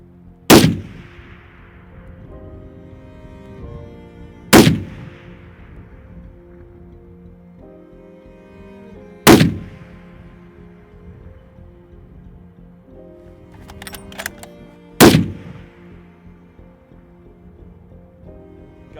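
A CheyTac Intervention rifle fires at a 2,000-yard target outdoors, with four loud, sharp reports spaced several seconds apart, each trailing off in a brief echo, plus a fainter click between them.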